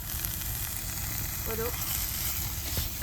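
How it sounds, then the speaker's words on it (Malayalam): Crushed small shallots frying in a little oil and ghee make a steady, close sizzle that runs throughout, with a few faint stirring clinks near the end. "അതൊന്ന് തിളച്ച് നല്ലപോലെ മൂപ്പിച്ചെടുക്കാം."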